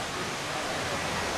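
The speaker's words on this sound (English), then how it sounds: "the waterfall, which you can't quite get from here, but you can hear it" A waterfall just out of sight near Cat Cat Village in Sapa, Vietnam: a steady, soft broadband rush of falling water, distant and even throughout, with no talking.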